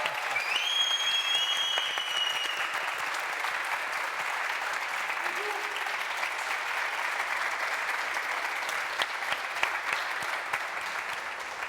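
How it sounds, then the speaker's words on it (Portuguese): A studio audience applauds a guest on a television talk show, sustained, even clapping from many hands that carries on for several seconds, with a faint voice briefly rising above it early on. "Aplausos para ela, porque ela é boa demais."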